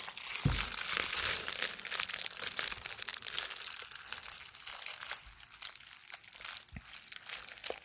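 Packaging paper folded lengthwise, crinkling and crumpling up close in a continuous papery rustle with a few sharper crunches, no voices.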